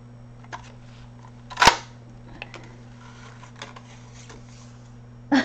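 A hand punch snaps through painted paper in one sharp, close click, followed by fainter clicks and rustles of paper against a steady electrical hum.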